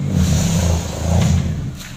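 A 1995 Daihatsu Feroza engine revving as the driver gives it gas, a loud, close, rumbling low drone that swells and eases over two seconds, with no voices over it.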